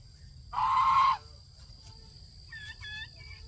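A goose calls outdoors with one loud, harsh honk, then a few softer, higher calls follow after a pause, all over a low steady background hum.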